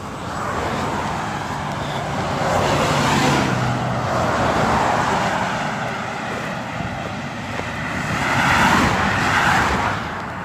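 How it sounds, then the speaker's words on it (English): Fast road traffic at 60 to 70 miles an hour, with cars and trucks rushing past a roadside shoulder near a bridge in Florida. A continuous loud roar swells and fades as vehicles pass close by. "Traffic at 60, 70 miles an hour."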